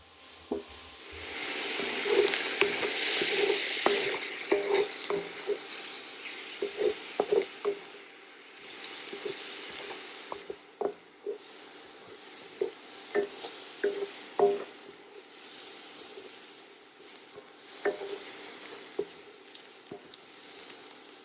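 Butter melts and fries with mushrooms, shallots and garlic in a pan, giving a soft steady sizzle punctuated by repeated scraping stirs and clacks of a utensil, louder early then settling lower.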